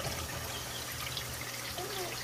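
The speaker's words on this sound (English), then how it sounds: "I'm just letting that water drain out a little bit again." Water drains out of a bowl used in goat milk soap making, a soft, steady trickle and pour heard close up, with faint background noise and no talking.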